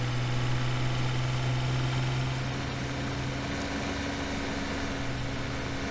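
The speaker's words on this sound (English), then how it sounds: "This is a sweet little tractor. This little Massey Ferguson." A small Massey Ferguson tractor in Farming Simulator 17 idles steadily with a low, even engine hum and a faint whine, with no change in pace throughout.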